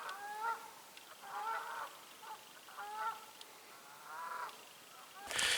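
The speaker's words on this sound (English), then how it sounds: "Geese, yeah, further out on the island." Geese honking out on an island, where several kinds of birds gather: repeated nasal honks arrive in loose bursts from a moderate distance, fairly faint against a quiet outdoor background, ending with a brief rustle.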